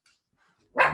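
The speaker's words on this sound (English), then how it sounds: "that was my dog. They're having a little bark." A dog gives a single short, loud bark nearby in an otherwise quiet indoor room.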